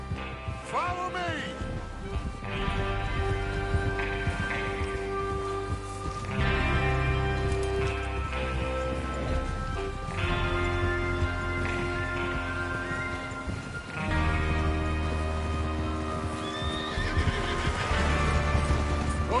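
Horses in the Western video game Red Dead Redemption whinny and neigh loudly over rapid galloping hoofbeats, with a gang riding out to rob a train; music plays throughout and voices talk intermittently.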